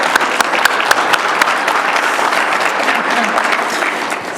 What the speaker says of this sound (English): So can we give a big round of applause to all our judges of the day?